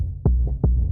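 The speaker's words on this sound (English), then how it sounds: "I used just a Contact sample again, but then I ran it out through my guitar pedal board, like through a distortion pedal." A contact-mic sample run through a guitar distortion pedal, two heavy booming knocks like a giant at a door, deep and thick with a slight pitch drop, evenly spaced and alone.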